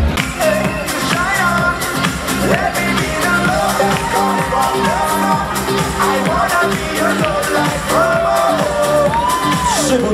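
A bar-event audience cheers and whoops for a bartender at a cocktail competition, a loud continuous crowd roar with shouts and yells rising over it, and a voice talking within the din.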